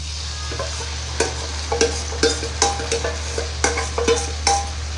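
Boiled bean-seed dal stirred into a pan with shrimp, a spoon scraping in repeated clattering strokes over a soft, steady sizzle, close and moderately loud, no talking.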